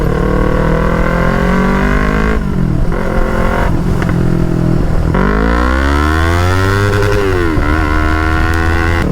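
A stage 1 modified Yamaha R3 motorcycle revs hard toward redline. The engine pitch climbs and drops sharply through quick downshifts, loud and close throughout with no talking.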